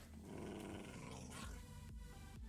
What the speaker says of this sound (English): Where is that dog?